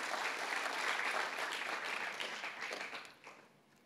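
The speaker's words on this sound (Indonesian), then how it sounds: "Kita kasih tepuk tangan buat Tuhan Yesus yang baik." Church congregation applauding together during a Sunday service in Manado, a broad steady wash of clapping that holds strong and then tapers off toward the end.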